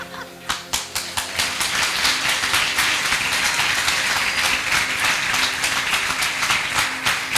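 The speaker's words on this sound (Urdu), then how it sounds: "تالیاں چور چور کے کیوں بجاندے تھے؟" A church congregation claps steadily in rhythm, a dense wash of hands with a regular beat, fairly close and continuous.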